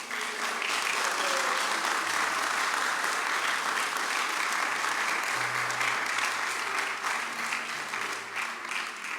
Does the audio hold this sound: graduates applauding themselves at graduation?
yes